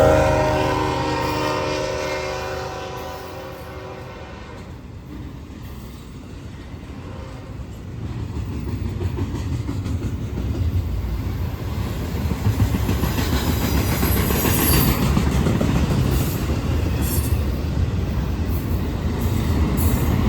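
A Norfolk Southern freight train led by a GE Gevo locomotive passes, a rising rumble of engine and rolling wagons that grows louder and steadier as the cars roll by, with a horn heard early.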